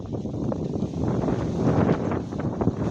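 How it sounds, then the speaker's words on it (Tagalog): Steady wind roaring and buffeting close to the microphone on Kawa Kawa Hills, broadband and continuous, with gusty surges throughout. "Sarap ng hangin."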